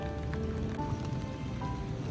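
Steady rain patters on a surface nearby in Ilocos Norte, Philippines, a dense continuous hiss with scattered drips, with no voices.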